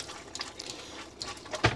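Water gurgles faintly in a touring caravan's pipes, a few soft burbling splashes over quiet background noise, ending with a brief sharper gush.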